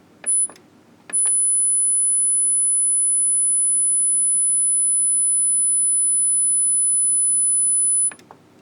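A very high-pitched pure test tone for an EQ demonstration holds steady for about seven seconds after a couple of short beeps, thin and piercing over a faint hiss, with no talking.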